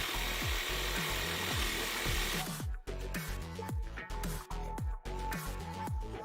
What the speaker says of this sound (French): j'ai quand même essayé de découper mon IPN avec la scie sabre